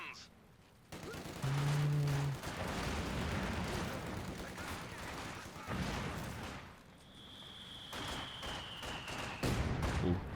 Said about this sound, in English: that mortar shot was pretty close here, but actually it's his own.